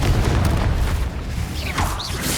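A Confringo fire spell bursts in the Hogwarts Legacy video game, a loud booming blast that rumbles on through the whole moment with dense low-end crackle and a few whooshing magical swirls on top.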